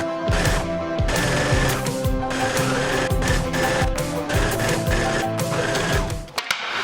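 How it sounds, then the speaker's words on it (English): A sewing machine topstitches a side seam on a pair of pants, running in quick rhythmic bursts of mechanical whirring and clatter with short pauses between runs, close and loud. "we are also going to top stitch this side seam"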